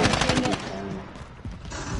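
Rapid automatic gunfire in the video game Call of Duty: Modern Warfare, a fast rhythmic burst of close shots up front that thins into scattered, quieter fire.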